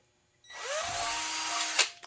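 A power drill fitted with a 4.28 drill bit bores through an LS valve cover baffle, a steady close whirring drone that starts abruptly and runs about a second and a half before a short louder burst as it breaks through.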